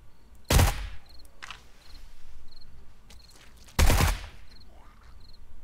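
Gunfire in the survival game 7 Days to Die: two loud, sharp shots a few seconds apart, with faint chirping insects and small thuds in between.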